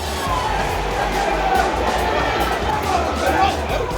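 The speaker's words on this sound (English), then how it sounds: "The ref misses a forward pass and the crowd are not happy." Rugby crowd at an Ospreys match, a steady dense roar of murmuring and chatter with scattered voices rising, continuous and fairly loud throughout as fans react unhappily to a missed forward pass.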